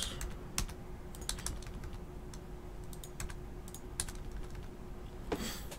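Someone types on a computer keyboard while editing a list, tapping out irregular clusters of soft, close keystrokes with brief pauses between bursts over a faint steady background hum.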